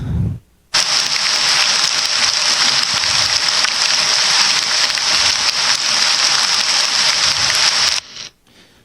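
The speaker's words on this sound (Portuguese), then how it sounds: "E agora eu vou tentar colocar o da chuva moderada." Moderate rain in a forest reserve field recording: a steady, loud, hissing patter sustained for about seven seconds, starting and stopping abruptly.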